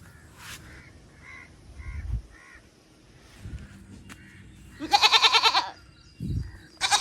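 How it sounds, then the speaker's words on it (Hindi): A goat bleats again and again at a home in a residential neighbourhood, short wavering calls in a series, then louder drawn-out cries later, with crows cawing and faint background noise between. "और यार ये बकरी बार बार बोल रही है"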